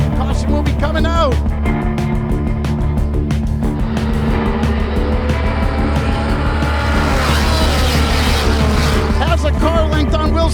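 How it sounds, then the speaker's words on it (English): Sport compact race cars roaring around an oval track, one car getting sideways and hitting the turn 2 wall, heard as a loud continuous engine drone with tire noise, under a commentator's excited speech. "Adam Perkins gets sideways. He bounces up Bob Williams hard into the turn 2 wall."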